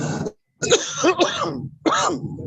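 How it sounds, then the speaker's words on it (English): A person coughs harshly several times in close succession: a short bout, a pause, then a longer throaty round and a final cough, loud and near. "someone is coughing"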